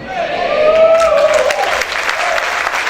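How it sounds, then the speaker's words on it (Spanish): A church congregation applauds in a brief, loud burst of clapping while a preacher's voice carries over the top. "Si ese aplauso es para el Señor"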